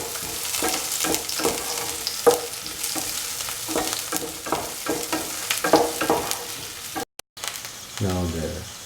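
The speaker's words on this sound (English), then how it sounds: "Keep on sauteing until the color of the onions turns to golden brown." Onions sauté in a frying pan, a steady loud sizzle with the clatter of stirring running throughout, briefly cutting out near the end.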